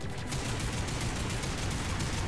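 Continuous dense gunfire in the sci-fi shooter Lost Planet 3, a loud steady rattle of rapid shots with no pauses.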